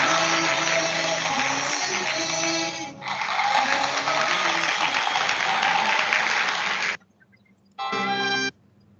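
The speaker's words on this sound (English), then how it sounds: "can we have a big clap for all the dancers here?" An audience at a school Independence Day assembly claps for the dancers, dense sustained applause that dips briefly, breaks off near the end, then returns in a short final burst.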